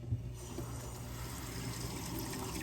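Hot water runs steadily from a tap, a faint, even splashing stream that continues unbroken for a few seconds with no voices.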